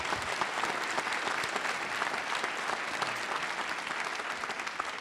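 An audience gives a round of applause at a live event, dense sustained clapping from many hands that stays loud and steady from start to finish, with no speech on top.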